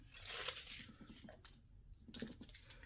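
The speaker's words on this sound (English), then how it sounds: "I'm gonna take us some foil." Aluminum foil is pulled off and crinkled by hand, giving close, quiet bursts of hissing crackle with brief rustling pauses and no voices.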